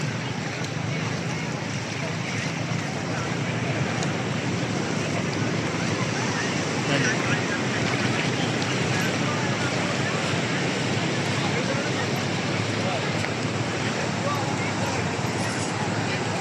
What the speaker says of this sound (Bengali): ইস বিশাল বড় ঢেউ এটা